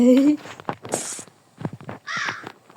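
A crow caws loudly in the Granny horror video game, a harsh nasal cry up front, followed by quieter game noises and bursts of speech.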